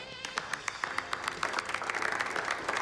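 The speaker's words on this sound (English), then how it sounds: "You can clap now." An audience applauds in a steady, moderately loud patter of many hands clapping together, sustained throughout without voices standing out.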